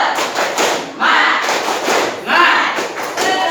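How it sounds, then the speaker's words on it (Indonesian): A classroom of students performs a rhythmic spirit clap, loud close bursts of claps and thumps in short patterned groups, repeating several times with brief pauses between. "Yuk kita mulai. Tepuk semangat."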